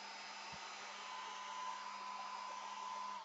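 A hair dryer blows steadily and close to dry a gelli plate for monoprinting, a constant airy whir with a faint whine that holds for the whole stretch with no voices.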